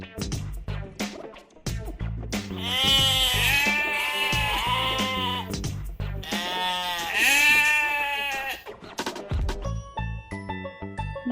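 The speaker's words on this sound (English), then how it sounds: "goat" Several wavering goat-like bleats in two long bursts, loud and close, with short clicks and thumps between them.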